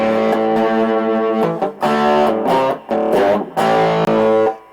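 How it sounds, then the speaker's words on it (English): An electric guitar plays sustained chords through a Washburn SX3 amp with its distortion set low, giving a lightly crunchy tone in several strummed bursts separated by short gaps. "So this is it, the distortion down really low on it."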